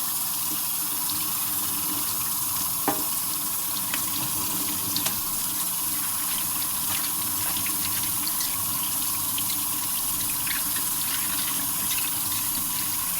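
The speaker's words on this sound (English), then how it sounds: "While my hands are still wet, I'm going to wash my asparagus." A kitchen tap runs steadily into a sink while asparagus is washed, a continuous close water stream with a few faint knocks, no speech.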